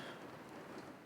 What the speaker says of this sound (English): just listening to the rain